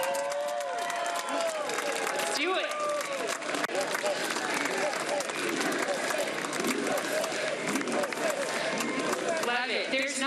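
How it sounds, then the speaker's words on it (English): A stadium crowd breaks into a giant, sustained roar of applause and cheering, dense and loud throughout, with a voice speaking briefly over the noise. "So I'm going to ask all of you to give a giant applause"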